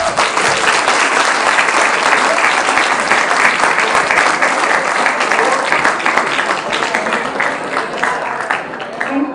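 Students at a college's first annual convocation ceremony applaud in a dense, steady wave of clapping that fills the hall loudly and evenly for about nine seconds, with a speaker's voice faintly underneath.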